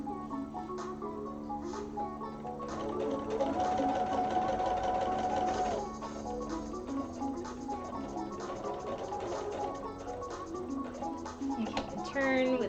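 A sewing machine stitching, a steady mechanical whir and rapid rhythmic ticking that speeds up and slows over a dozen seconds, close and prominent, with a person talking briefly over it.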